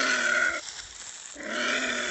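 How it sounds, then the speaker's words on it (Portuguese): Giant anteater pup crying out in two loud, harsh, drawn-out wails separated by a short pause, close by and with no talk. "E eu vou deixar ele gritando aqui, que aí a mãe dele vem."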